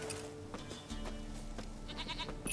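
Goat bleats in The Witcher 3 over steady game ambience, a few short cries scattered across the moment, moderately loud in the foreground.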